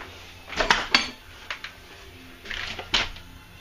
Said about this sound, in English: I just tried to chisel the old thin set mortar off the original backer board